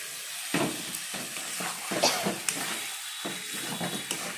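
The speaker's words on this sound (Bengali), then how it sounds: "এবার ম্যারিনেট করা মাংসটা দিয়ে দেবো।" Marinated chicken is stirred into a sizzling spice masala: repeated scraping stirs with a bubbling fry hiss between them, close and moderately loud, with no talk.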